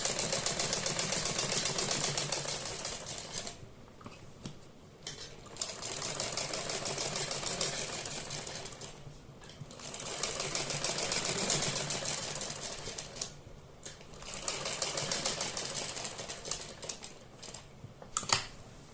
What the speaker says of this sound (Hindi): गले पर चारों तरफ हमें सिलाई लगानी है।